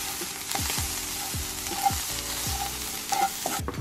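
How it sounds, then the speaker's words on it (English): Corn roasting in a hot pan, a steady close sizzle with repeated scraping stirs and light taps of a utensil on the pan, no voices. "Just gonna pour the corn in here and just allow that to just do its thing. It's gonna be like roasted and delicious."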